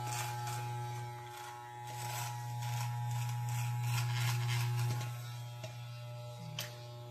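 An electric trimmer buzzing steadily while shaving a beard outline, a close constant hum with faint scratchy passes as it moves over the hair.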